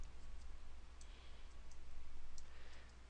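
Soft computer mouse clicks on a software installer's Next button, a few sharp isolated ticks spaced apart over a quiet hum of room noise.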